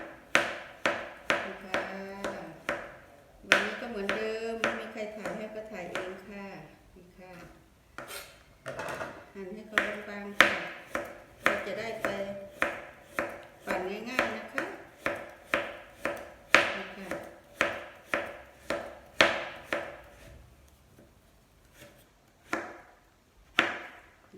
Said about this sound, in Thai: เราจะมาหั่นมันสำปะหลังกันนะคะ นี่มันสำปะหลังกันนะคะ เราจะหั่นบางๆ